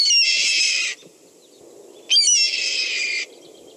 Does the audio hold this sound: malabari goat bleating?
no